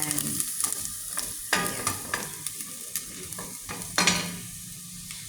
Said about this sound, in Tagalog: Yung medyo brown yung sibuyas ko at bawang para mabango yan.